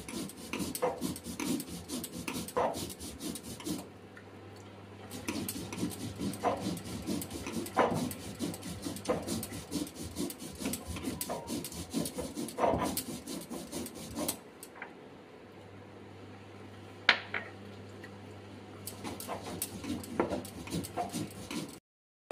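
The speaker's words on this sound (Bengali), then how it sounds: "পোস্তটা আমি বেটে নিচ্ছি ভালোভাবে" Poppy seeds being ground on a shil-pata grinding stone, a steady rasping scrape of stone on stone repeating in rhythmic strokes, close and continuous with brief pauses.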